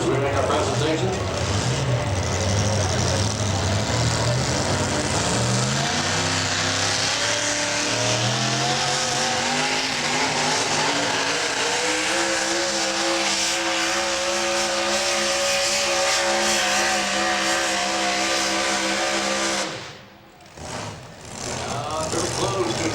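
A pulling truck at an NTPA truck pull in Tomah, Wisconsin, roars at high revs, its engine note climbing steadily under an announcer's talk before cutting off abruptly.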